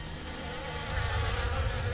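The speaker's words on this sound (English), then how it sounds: "Imagine getting stung by one of those bees." Insect-like buzzing from a swarm of bees at a giant hive, a steady low drone that holds throughout and swells slightly louder midway, with no talking.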